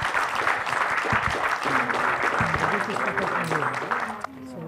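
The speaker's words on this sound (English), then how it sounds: "Give one more final big applause for Ms. Munro." Audience at the BIFFF 2014 film festival applauding, dense sustained clapping with voices and cheers mixed in, tapering off near the end.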